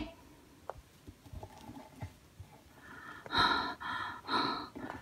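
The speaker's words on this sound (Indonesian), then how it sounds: "kenapa nafasmu terengah-engah?" A cartoon character pants and breathes heavily, out of breath, in a string of loud, raspy breaths near the end following quieter sounds.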